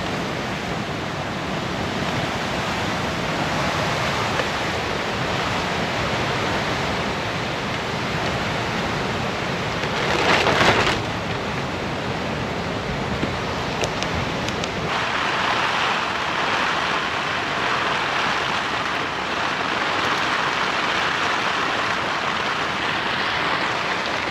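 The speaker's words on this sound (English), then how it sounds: "here comes a good gust." Strong tropical-storm wind roars without a break across an island campsite, with one sharper gust swelling around ten seconds and the rush shifting in tone near fifteen seconds. No one talks.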